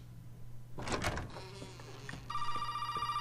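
A telephone in the horror game Resident Evil 7 starts ringing late, a steady electronic tone after a burst of clattering noise and soft ambient sounds.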